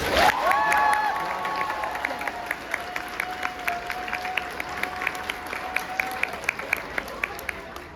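At the TN 2023 YIG conference opening ceremony, a crowd bursts into applause with a whistle and cheer at the start, then settles into a thinner run of scattered claps that trails off.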